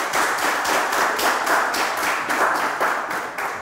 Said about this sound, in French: Merci d'applaudir pour les 4 candidats